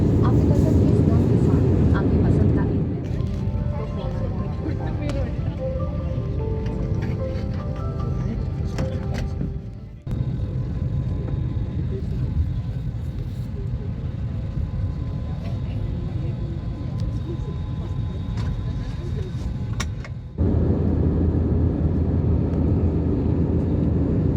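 Airplane cabin noise during flight and landing, a loud steady low roar from engines and airflow that shifts in level a couple of times, with a voice talking over it.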